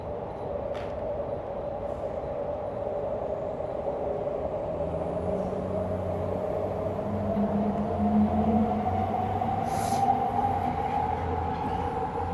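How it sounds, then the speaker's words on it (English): A train passing close by, a loud sustained rumble and rolling hum with rising and falling tones and a brief high squeal, heard without any voices. "that train sounds just as loud as the one in my backyard"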